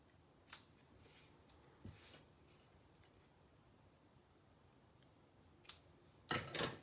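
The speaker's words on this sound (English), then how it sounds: "So now I'm just going to trim the edges." Scissors trimming ribbon edges in quiet indoors, a few faint scattered snips with a brief cluster of crisp cuts at the end, close and without talk.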